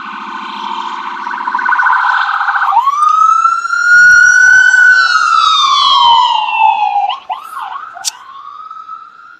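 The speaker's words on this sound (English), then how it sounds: "here comes this ambulance." An ambulance siren wails loudly as it passes close by in the early morning, its sweeping tone rising, holding, then dropping in pitch and breaking into short yelps as it moves away.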